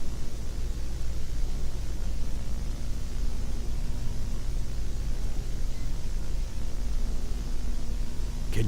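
An alarm clock radio hisses with steady, loud broadband static, an unbroken even noise with a faint low hum underneath, ending with a brief disturbance.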